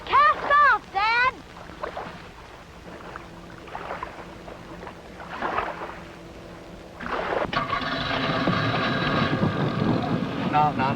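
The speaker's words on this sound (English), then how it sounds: "That engine looks like it's too big for this boat." An outboard motor on a small boat starts up partway through and runs with a steady, broad roar, following a quieter stretch with some brief voice sounds at the start.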